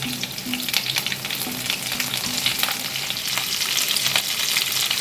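Continuous close-up sizzle and crackle of chillies, capsicum, carrot and coriander stems roasting in a pan, with faint scraping of stirring underneath.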